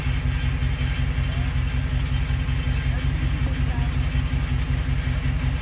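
2022 Dodge Charger Scatpack Widebody with a mid muffler delete, a deep, steady idling exhaust rumble with throbbing low-end pulses, close and continuous.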